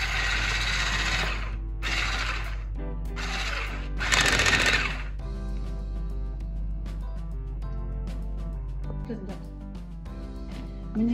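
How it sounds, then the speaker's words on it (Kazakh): An electric mixer whirs in short bursts while room-temperature butter is worked into apple charlotte cake batter, the buzzing motor cutting in and out before fading, with a voice talking over it throughout. "тағы да миксерлеп аламыз"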